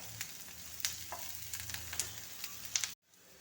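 Onion and green chili sauté in a pan with a quiet, crackling sizzle broken by sharp little pops and stirring clicks. The sound cuts off abruptly just before the end.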